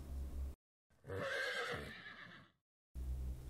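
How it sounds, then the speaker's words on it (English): A horse gives a single loud, close whinny lasting about a second and a half, rising and then trailing off, with brief silence before and after it. "Horse."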